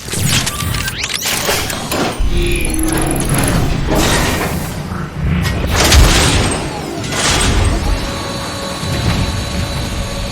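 Artillery fire in Transformers: Fall of Cybertron, with loud deep booms and mechanical clanking layered over whirring machinery, several heavy blasts and bursts spread across the stretch, one standing out near the middle.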